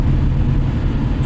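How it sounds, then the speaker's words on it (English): Low, constant rumble of a large idling lorry engine very close by, steady and loud throughout. "Excuse the noise, I've got a lorry right next to me."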